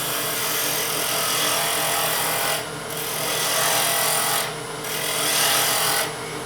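A Thompson spindle roughing gouge cuts a wood bottle-stopper blank spinning on a lathe, a loud continuous rasping shear over the motor's hum, dropping briefly in two short gaps as the tool lifts off.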